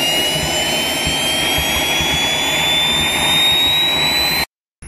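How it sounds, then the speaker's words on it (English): A SWIWIN SW80B jet turbine engine on a test run accelerates toward maximum RPM, a loud roaring whine with a rising high-pitched tone that cuts off abruptly near the end. "So now we increase the RPM acceleration to maxima and check how fast the acceleration time."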